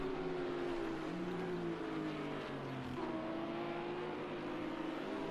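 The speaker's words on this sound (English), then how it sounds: "You can see how Duppy's just throwing that Bentley around" Bentley GT3 race car engine in a racing video game, a steady, droning whine with shifting pitch as the car is pushed hard, moderately quiet and continuous.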